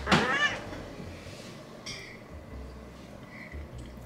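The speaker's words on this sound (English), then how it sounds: "She's a southern kitty." A pet cat meows once, close and clear, in a kitchen while cornbread is served, followed by a quieter second call and low background noise.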